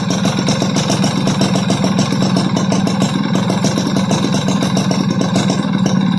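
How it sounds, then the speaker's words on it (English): Motorcycle engine with a Mikuni carburetor idling after adjustment, a close, loud and steady low-pitched putter with even, rapid firing pulses and no speech. "Right now, idle sound good."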